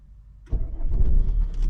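A car engine, feared to have a flat battery after a night's camping in foul weather at Dale Head Tarn, cranks briefly and catches, then settles into a steady close idle.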